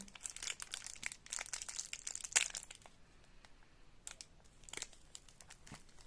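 Olive Marseille soap is slowly unwrapped, its crisp wrapper crinkling and tearing in close, irregular bursts, with a brief quieter pause before a few more crackles.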